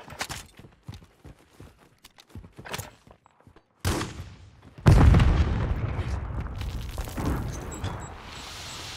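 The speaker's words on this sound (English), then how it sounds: "Shotgun." Shotgun blasts in Call of Duty Warzone 2, a heavy boom leading into a sustained loud roar of gunfire and rumble after scattered footsteps and sharp clicks.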